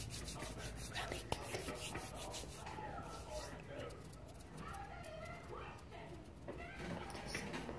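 Soft, close ASMR rubbing and brushing, a continuous textured friction that shifts in strokes, quiet and intimate, with faint background voice.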